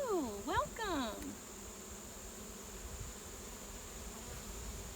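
Steady, dense buzzing of honeybees in a hive with newly hatched worker bees, a continuous low drone throughout; a brief voice-like sweep opens the stretch before the hum carries on alone.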